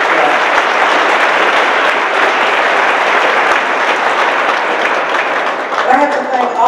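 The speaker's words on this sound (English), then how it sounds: "Give Peralta another applause." An audience at a lecture series event applauds Peralta Community College District with loud, sustained clapping that holds steady throughout, and a voice enters near the end.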